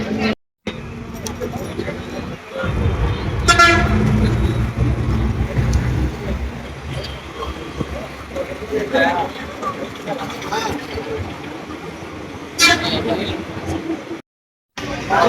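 A bus drives along a road with a steady, loud engine and traffic rumble. Brief horn-like blasts sound near the start and again toward the end, and a voice talks over the noise.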